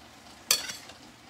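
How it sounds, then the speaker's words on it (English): Vegetables coated in sauce are stirred in a frying pan for chicken lettuce wraps. A single brief, close scrape and clink of the spoon sits over a faint background hiss. "Now all I'm going to do is just stir them around a little bit."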